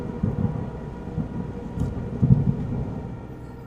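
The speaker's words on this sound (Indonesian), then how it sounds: "Hujan pun semakin deras, menambah suasana dalam rumah tua itu." Heavy rain and rolling thunder around an old house, a low continuous rumble with a couple of louder swells, steady and fairly loud throughout.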